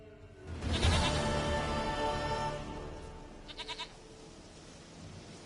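A goat in The Witcher 3 lets out a loud, wavering bleat up close, followed a few seconds later by a short burst of fainter stuttering bleats over quiet ambience.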